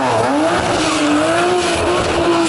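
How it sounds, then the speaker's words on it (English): A turbocharged BMW 335i does a burnout at a drag strip, a loud, continuous engine roar with rising pitch sweeps and a steady tire squeal close by, with no voices. "Oh yeah, that was a good burnout."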